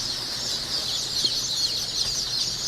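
At a poultry hatchery, a blue Cochin chick peeps among many other newly hatched chicks. Their high, shrill cheeping is dense and constant, fairly close, and goes on without a pause.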